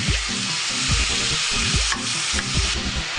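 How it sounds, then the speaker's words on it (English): Meat and onions sauté in a pot for cholent, a loud continuous sizzle with rhythmic scraping strokes of stirring close by, no voices. "After a few minutes of sauteing the meat and the onions, I'm ready to add my beans."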